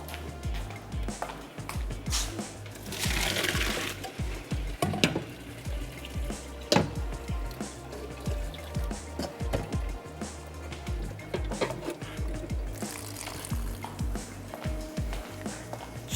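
Cooked prawns are rinsed under cold running tap water in a kitchen, a faint steady splashing with irregular small spatters throughout.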